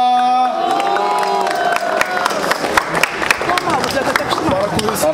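Crowd at a rap battle in Rocinha cheering, shouting and whooping loudly and continuously, close and dense, with scattered claps and shouts rising through the noise.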